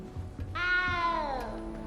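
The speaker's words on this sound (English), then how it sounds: "little cat." A cat in a castle gives one clear, drawn-out meow, close and moderately loud, that slides downward at the end over a low background hum.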